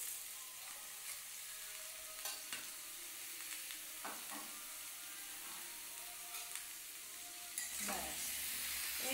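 Cumin powder and sugar frying in oil while being stirred, a quiet steady sizzle with faint scraping strokes of a spoon and a slightly louder hiss near the end.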